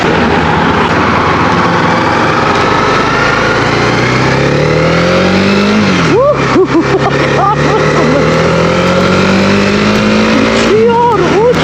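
A Honda CB 250R motorcycle engine drones loudly and steadily while riding, rising in pitch as it accelerates, then dropping briefly at gear shifts before climbing again, with a rider's voice over wind noise.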